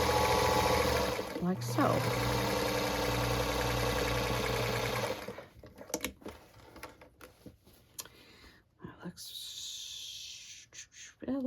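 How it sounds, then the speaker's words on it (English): A sewing machine runs steadily for about five seconds while top stitching a linen zippered bag, guided by the small part of the presser foot, then stops; a person speaks briefly afterwards amid light handling noises. "am going to sew on the left side here. I'm using the very small part of the presser foot as the guide. And we'll just top stitch this"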